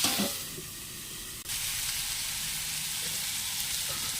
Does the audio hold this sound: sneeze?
no